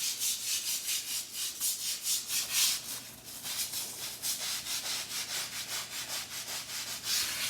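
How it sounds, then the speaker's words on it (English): A brush scrubbing tile grout with Zep cleaner, heard as rapid rhythmic back-and-forth rasping strokes, close and fairly loud, repeating evenly with no talking. "let me scrub the grout with the brush"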